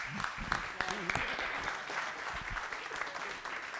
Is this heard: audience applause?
yes